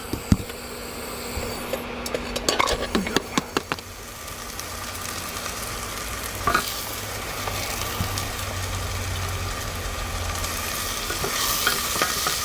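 Onions frying in oil in a pan, a steady moderate sizzle, with a cluster of clattery stirring and utensil knocks early on, then mostly even frying with a faint hum beneath and no voices.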